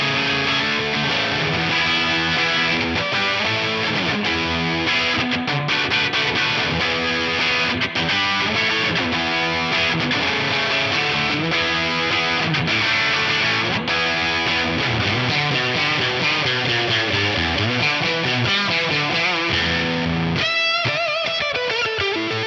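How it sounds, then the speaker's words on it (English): Electric guitar played through a Carvin Quad-X tube preamp, dialed to a garagey, scuzzy distortion with the reverb cranked up; dense chords ring out continuously and loud, breaking off near the end. "This should be a pretty cool kind of like garagey scuzz thing."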